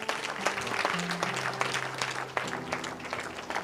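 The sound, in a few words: congregation applauding for Jesus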